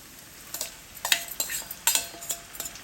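Marinated chicken frying in oil in a pan over a medium flame, a steady soft sizzle broken by several sharp crackles and stirring clatters, close and fairly quiet.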